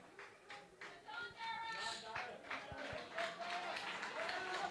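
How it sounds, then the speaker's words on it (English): The Bray Emmets crowd at a senior semi-final against Glenealy gives a warm round of clapping for a substituted player, heard faint and distant beneath a commentator talking close by. "A big clap from the Bray crowd underneath us here."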